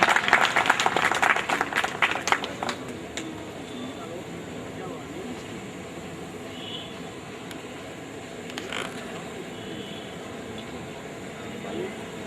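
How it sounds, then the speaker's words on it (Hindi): An audience at a community award ceremony breaks into loud, rapid clapping for a few seconds, which then dies away into a quieter room tone with scattered murmurs. "जोरदार तालियां"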